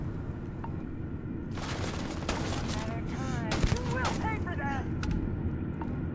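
Gunfire in Starfield, a burst of rapid, loud shots in the middle of the passage over steady game noise, with someone talking at points.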